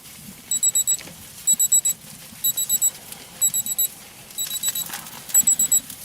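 A digital meat thermometer probe in a Dyna-Glo smoker beeps in quick bursts of four high electronic tones, repeating about every second, sharp and close over low background noise.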